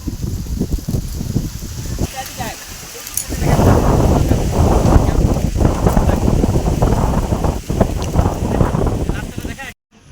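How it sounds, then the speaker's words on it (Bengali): Strong wind gusts outdoors during rain in Durgapur rush and roar against the microphone in loud, uneven bursts, with a person's voice audible through parts of it. "দেখো হাওয়া দিচ্ছে খুব জোর"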